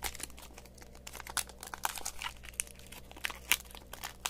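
A Pokémon card pack wrapper is torn open and crinkled, with short crackling rustles and small snaps close by, and no voices.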